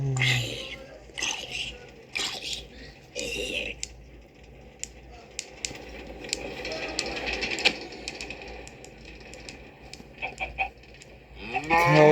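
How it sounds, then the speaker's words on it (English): Cattle moo somewhere in the background among clicking, mechanical noises, with people talking at times throughout. "Cows moo."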